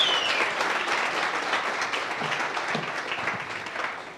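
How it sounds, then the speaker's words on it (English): A packed audience at a township business workshop applauds steadily for over four seconds, a dense wash of clapping that stays loud throughout and fades slightly at the end. "Can we give our online audience a round of applause as well?"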